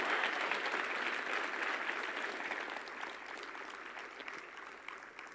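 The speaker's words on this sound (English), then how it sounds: "A big round of applause for Rado." An audience at a HackConf tech conference breaks into dense, sustained applause that fills the room, then slowly thins and fades toward the end, with no voices standing out.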